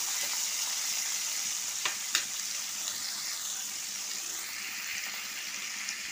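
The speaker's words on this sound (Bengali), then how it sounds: "আমি ভালো লাল করে ভাজছি" Steady sizzling of drained rice frying in a pan for hilsa pulao, a constant hiss with a couple of brief clinks partway through, no voices.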